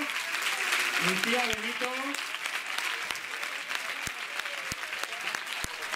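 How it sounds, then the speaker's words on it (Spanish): Steady, full audience applause at a 2015 king and queen proclamation gala in Albelda de Iregua, greeting the newly named queen; it carries on under a voice announcing a name over the clapping. "Ese aplauso"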